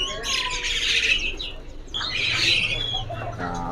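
A white-rumped shama sings at a bird kiosk, pouring out loud, bright, warbling phrases in two long bursts over a busy background hum of other birds and chatter.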